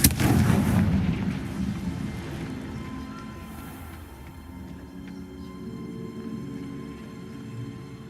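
A Confringo fire spell in the game Hogwarts Legacy bursts loudly at the start, then a long roaring, crackling rumble slowly fades and steadies over several seconds, with no talk.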